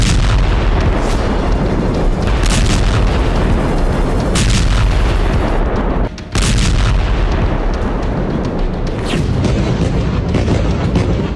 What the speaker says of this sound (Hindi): गाजा में रह रहकर धमाके हो रहे